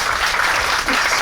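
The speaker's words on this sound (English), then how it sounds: "Round of applause for that." Dense audience applause, a steady wash of many hands clapping close and loud for the whole short stretch, with no voices over it.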